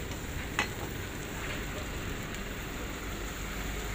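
A burger cooking on a street stall grill gives off a soft, steady sizzle with faint crackles, heard at low level against open-air background noise.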